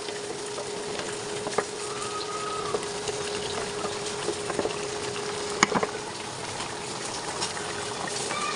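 Koi fish sizzle steadily in hot oil in a pan, a constant close frying hiss with a few light clicks and stirring taps scattered through.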